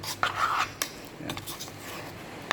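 A spoon clinks and scrapes inside a container while stirring an avocado shake, with light intermittent taps and one sharper knock near the end, no talking.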